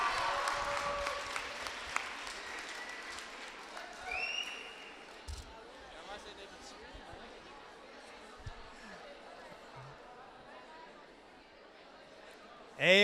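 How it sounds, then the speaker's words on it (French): A crowd claps for the men's 8 km race podium of 2022, loud and dense at first, then thinning into scattered claps and chatter, with a few sharp bursts near the end. "Et on applaudit notre podium masculin 8 km 2022"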